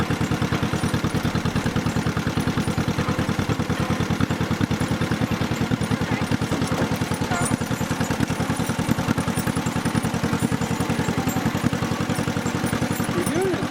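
A tractor engine chugs in a fast, steady, even rhythm while the tractor is driven, close and loud, holding the same pace throughout.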